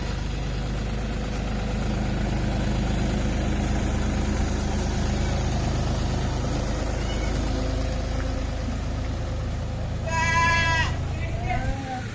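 Steady tractor engine rumble runs throughout with crowd noise during a flood in Gopalpur, Hanumakonda, then near the end a few sheep being moved by tractor bleat clearly, close and loud, over the motor.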